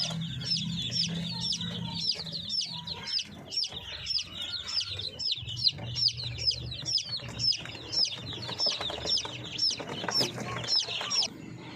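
Breeder chickens and chicks on a farm, with rapid high peeping repeated throughout over low, steady clucking from the hens, fairly close and continuous.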